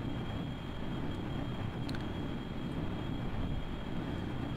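A Red Arrow Mark IV aircraft in the Kerbal Space Program game drones steadily in flight, a continuous low engine rumble holding at an even level from start to finish with no voices.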